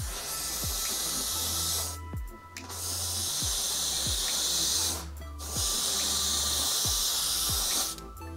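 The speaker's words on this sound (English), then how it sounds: "dragging the template while I'm spraying through it" An airbrush sprays paint through a template dragged across a canvas to build bark texture: three sustained, close hissing bursts separated by short pauses.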